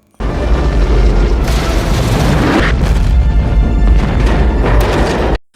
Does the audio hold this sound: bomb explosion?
yes